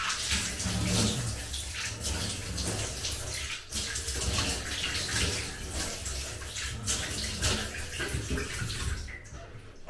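Water runs continuously from a tap while a safety-razor shave is rinsed off, a steady splashing rush with faint handling sounds.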